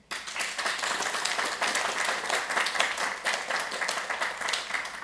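Audience applause fills a Mozilla weekly project meeting in Mountain View, a steady dense clapping from a crowded room that holds evenly throughout without speech.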